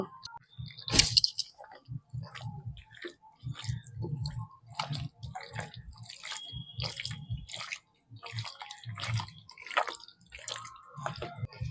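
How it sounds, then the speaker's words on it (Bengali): Mutton is mixed by hand with sour yogurt, mustard oil and Kashmiri chilli powder, making close, wet squelching and slapping sounds in an irregular rhythm with no talking. "এবার দিয়ে দেব টক দই, এবার দিয়ে দেব সর্ষের তেল। এবার ভালো করে মাখিয়ে নেব।"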